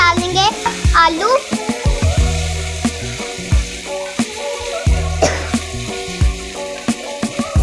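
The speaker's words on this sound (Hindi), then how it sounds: "तो अभी हम इसमें थोड़े से डाल देंगे आलू।" Potatoes fry in a pan with a loud, close sizzle, broken by repeated clatters and scrapes of stirring. A voice and tonal sounds run over the frying.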